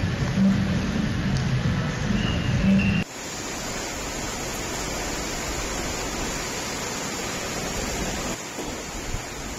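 Steady, dense rain hissing down on a wet day, a broad even wash of noise with a louder, rougher stretch at the start before settling into a constant downpour, with no voices.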